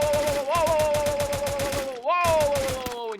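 Rapid automatic gunfire in a shooter video game during a guild tournament match, a fast even string of loud shots that pauses briefly and then resumes, with a tonal game sound layered over it.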